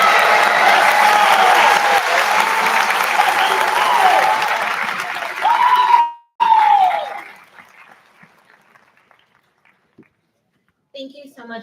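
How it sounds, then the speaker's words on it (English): Loud applause and cheering from a high school graduation crowd for the class of 2025, filling the space for several seconds before breaking off and dying away into near silence, with voices briefly audible. "a round of applause for our graduating class of 2025."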